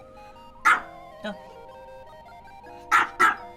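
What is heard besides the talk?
dog barking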